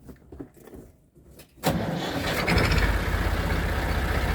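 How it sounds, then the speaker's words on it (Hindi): A tractor engine cranks briefly after some quiet shuffling, then catches and settles into a loud, steady, rumbling idle that continues to the end, with a farm silage-feeding setting. "ये ट्रैक्टर स्टार्ट हो गया जी।"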